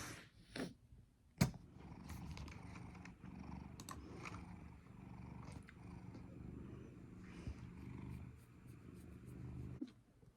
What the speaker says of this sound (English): He's purring so loud.